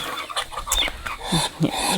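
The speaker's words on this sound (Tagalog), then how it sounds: "So ito yung mga manok." Several chickens on a farm clucking up close in short, overlapping bursts, with a few higher squawks over a faint outdoor background.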